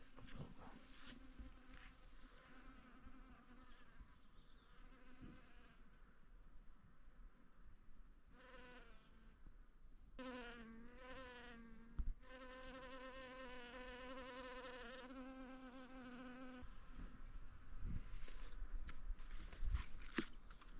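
Bees buzz steadily nearby, their drone rising and falling as they move close and away, with no talking.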